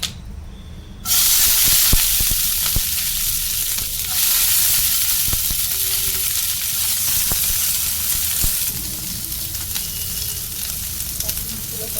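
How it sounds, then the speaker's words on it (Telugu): Dark green chillies, about twenty, fry in a hot pan for an ivy gourd chutney, giving a steady, loud, close sizzle with occasional sharp pops and stirring clicks throughout. "ఇప్పుడు పచ్చిమిర్చి వేయించుకుందాం"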